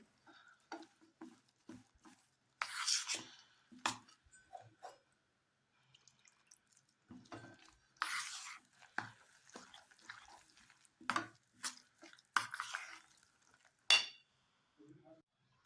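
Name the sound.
adding water and mixing rava dhokla batter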